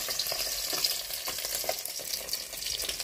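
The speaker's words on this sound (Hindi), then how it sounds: "पहले मछली को फ्राई कर लेते हैं" Snakehead fish frying in hot oil for a village-style bottle gourd curry, giving a continuous close crackling sizzle with scattered pops and stirring, no talk.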